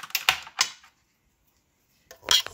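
Short bursts of clicky keystrokes on a basic computer keyboard, a quick cluster of taps, a pause of silence, then another brief flurry.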